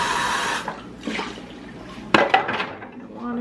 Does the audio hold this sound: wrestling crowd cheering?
no